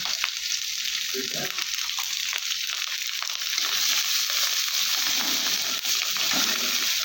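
Fish roe fries in a pan with turmeric and salt, giving a steady close sizzle with crackling and occasional scraping of a utensil, continuous throughout.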